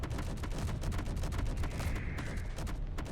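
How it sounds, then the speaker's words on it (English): A torpedo launch in the Space Engineers video game, a dense continuous rumble of rapid booming bursts with a brief whooshing tone partway through, loud and sustained. "I'm going to launch one torpedo now"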